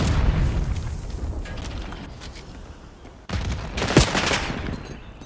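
In a Black Ops 6 private match of Search and Destroy, a grenade blast and a loud burst of gunfire ring out at close range, with a rumbling explosion and a sharp second burst partway through.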